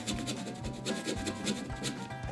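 A putty knife scrapes out part of a model scenery base in a run of quiet, rasping strokes that repeat roughly every half second, close by and soft.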